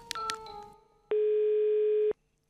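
A steady telephone dial tone sounds for about a second after the green call button is pressed. It follows a few short beeps and some faint handling noise, with no voices.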